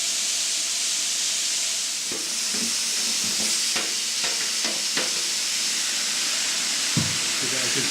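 Portobello mushrooms and onions frying in a pan, a steady close sizzle and hiss with scattered scrapes and knocks of stirring.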